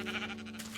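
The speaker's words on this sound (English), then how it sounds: "I've just discovered a pink sheep" A pink sheep in a Minecraft-style block game gives one short, wavering bleat, fairly faint, with no talk over it.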